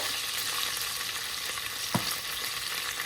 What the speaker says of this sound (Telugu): బాగా ఫ్రై చేసుకోండి